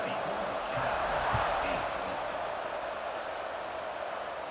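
Stadium crowd in College Football 26 roars as a broad, steady wash of cheering noise, with some faint thumps mixed in.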